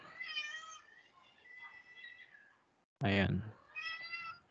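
A person imitates a cat meowing with voiced, harmonic meows that come in several bursts, one of them short and loud, and each is followed by ordinary talk.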